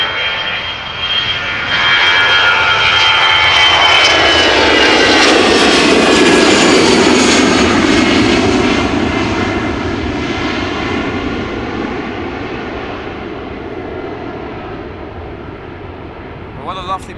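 An Aer Lingus Airbus A320's jet engines roar close by at Amsterdam Schiphol Airport, rising to a loud peak and slowly fading, with a whining tone over the rumble.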